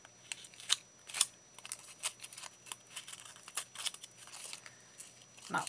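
A paper edge is roughed up by hand to look worn, making a run of irregular crisp scratching, crinkling and tearing sounds, close and fairly faint, with no talking.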